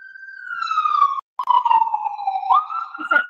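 An ambulance siren passes outside, loud and wailing in long sweeping tones that fall and then rise again, with a short break partway through and no talk over it.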